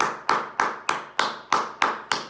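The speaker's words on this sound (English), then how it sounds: "Round of applause for everybody I've done for the day." A single person claps hands at an even, quick pace, with eight sharp, close claps spaced about a third of a second apart.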